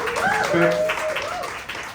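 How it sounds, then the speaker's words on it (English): At a Women in Tech event, an audience applauds the sponsors as a steady wash of clapping beneath a speaker who keeps talking over it throughout. "Big round of applause"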